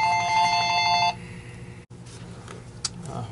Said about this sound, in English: I'm gonna get the phone here